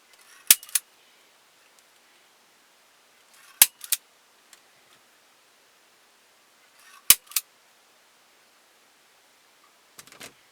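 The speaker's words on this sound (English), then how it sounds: "We're going to staple this right here." A staple gun fires three sharp snaps spaced a few seconds apart, each with a small double click, fastening a hair piece onto a wooden ventriloquist dummy, close in an otherwise quiet room.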